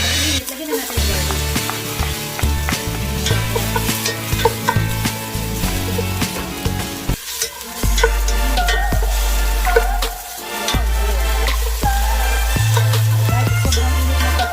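Garlic frying in a very hot pot at the start of a homemade chicken wing stew with vegetables, giving a steady close sizzle and stirring that runs the whole time under loud tonal background music.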